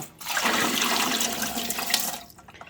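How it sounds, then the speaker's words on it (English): Water pours from a tap into a pressure canner, a steady close rushing splash that starts abruptly, holds for about two seconds, then cuts off. "we are going to fill up our canner with the amount of water prescribed by your manual"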